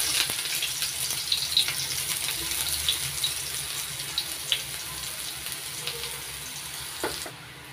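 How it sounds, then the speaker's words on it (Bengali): Chopped onions hitting hot oil left over from frying pointed gourd, a steady close sizzling hiss dotted with small crackles and pops, with no talk. "তেল গরম হয়ে গেছে। এবার দিয়ে দিচ্ছি পেঁয়াজ কুচি।"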